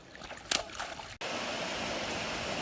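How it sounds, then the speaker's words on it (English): A flooded creek swollen from days of rain rushes close by in a steady broadband wash of flowing water, with a few brief splashes early on before the flow continues unbroken. "it looks like the creek is way up and right at the road"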